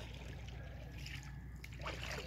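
Water trickles and splashes steadily as a boat is paddled through shallow sea water at low tide in early morning, with soft dribbling and a slightly louder splash near the end.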